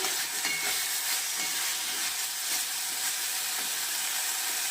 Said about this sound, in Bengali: আমি একটু নেড়ে দিচ্ছি